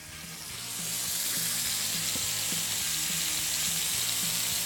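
Water poured from a kettle into a pan on a stovetop while cooking rice, a steady hissing, splashing stream that rises in the first second and then holds level, close and fairly loud, with no talk.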